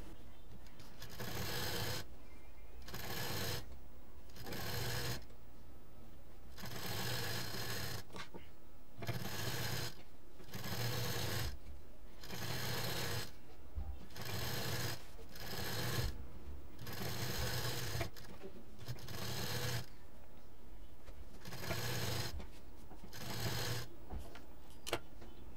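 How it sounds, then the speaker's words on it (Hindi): A sewing machine stitches around the edges of a fabric face mask in repeated bursts of rapid whirring, separated by short pauses, close and fairly loud. "मशीन चला देंगे चारों तरफ।"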